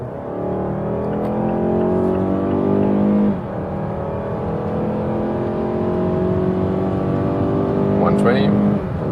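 A Mazda CX-5 in sport mode accelerates from 60 km/h with no turbo, its engine droning steadily and rising in pitch through a gear change, heard from inside the cabin with someone talking over it.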